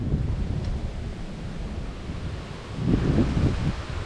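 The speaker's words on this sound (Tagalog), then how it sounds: "Ang hangin pa oh." Strong wind buffets the microphone at an open hilltop viewpoint near a proposed dam site in Bulacan, Philippines, a loud continuous low roar that swells toward the end, with no talking.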